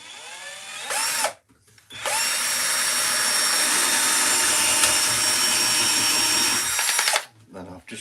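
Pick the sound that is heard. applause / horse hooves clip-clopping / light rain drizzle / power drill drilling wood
power drill drilling wood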